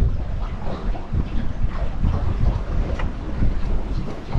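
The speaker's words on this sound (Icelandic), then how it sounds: "Það er vindur hér" Wind roars steadily across a sailboat racing in an Icelandic championship, a broad gusty rush with some wind buffeting on the microphone and no voices.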